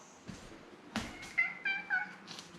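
A cat meows several times in short, close, fairly soft calls, with small rustles between them.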